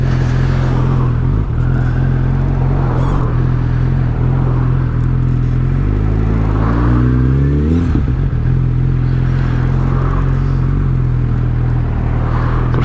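Engine drone from inside a car holds steady in traffic near roadworks; midway, a nearby vehicle revs and accelerates through with a rising whine before the steady rumble returns. No talking.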